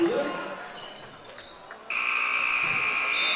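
A loud, sustained electronic buzzer sounds in a gym at the end of a boys' high school basketball half, cutting in sharply after quieter crowd and court noise and holding steady to the end.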